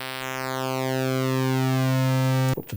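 Cherry Audio Mercury-6 synthesizer oscillator with pulse width modulation, a sustained thin buzzy tone whose harmonics sweep steadily for over two seconds before cutting off abruptly.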